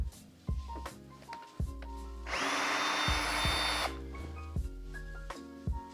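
Power tool driving out screws from a Yamaha MX-A5200 amplifier chassis, one sustained whirring burst of about a second and a half amid background music, close and fairly loud.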